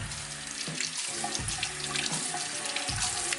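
Water runs steadily from a sink tap into the basin, a constant close splashing rush with a few gurgling surges.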